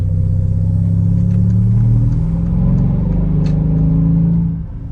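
A Mercedes SL550 R231 with aFe air filters and spacers builds speed, its engine giving a deep, loud, steady droning rumble that rises gently, then eases off near the end, with no talk over it.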